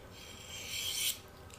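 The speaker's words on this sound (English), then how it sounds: "Now this here is a diamond steel." A knife blade drawn along a fine diamond-dust sharpening steel, giving a soft, steady rasping stroke that swells louder toward the end before stopping, with no talk.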